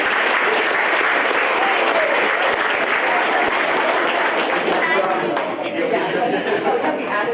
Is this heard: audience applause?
yes